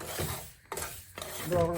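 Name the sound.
semolina (rava) being stirred and roasted in a pan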